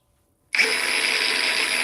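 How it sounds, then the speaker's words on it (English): An angle grinder switches on abruptly after a brief silence and whines at a steady high pitch, running loud and close without any voices. "You try to adjust the speed on these grinders."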